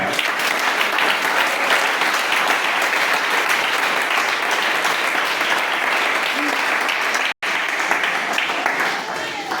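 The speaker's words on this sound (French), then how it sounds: "Acclame pour toi-même." A church congregation at a Sunday service applauds in a loud, dense, continuous roar of many hands clapping, with a brief cut near the end.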